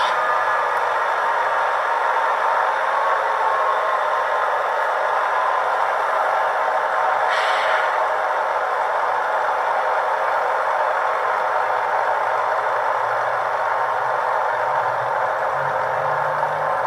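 An Intermountain Railway CN Tier 4 GEVO model locomotive's engine sound idling, a steady unbroken droning hum with a faint rattle, constant in loudness throughout.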